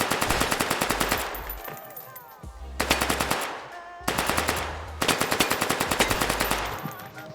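Submachine gun fire in the VR shooter H3VR, several loud bursts of rapid automatic shots with brief pauses between them, close and sharp, with faint talk in the background.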